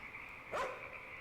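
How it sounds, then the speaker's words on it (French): A dog barks once at a distance over steady background hiss on a dark road leading toward a tunnel, a short, muffled outburst with nothing after it. "j'entends un chien qui va me bouffer les mollets."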